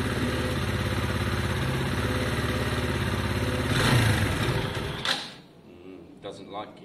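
Small motorcycle engine idling while warming up on a cold start, a steady mid-pitched putter for about five seconds before cutting out, followed by quiet handling sounds.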